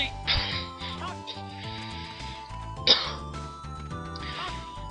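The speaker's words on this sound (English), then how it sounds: "sorry if you can hear my coughing" A person coughs a few times close to the microphone, short broad bursts breaking through steady video game music during a Ganbare Goemon DS play session.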